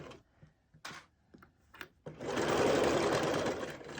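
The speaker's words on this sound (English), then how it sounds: "make sure that you change your machine to a straight stitch, back stitch" A sewing machine runs a straight stitch on fabric for a pencil holder, a steady loud mechanical whirr lasting about two seconds after some quieter handling clicks and taps.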